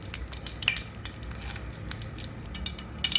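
Mustard seeds heat in two ladles of hot oil for tempering, with a soft, continuous sizzle, faint pops and a few light stirring clinks from the pan.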